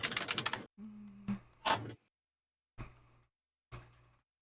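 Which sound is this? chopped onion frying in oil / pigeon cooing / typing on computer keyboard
typing on computer keyboard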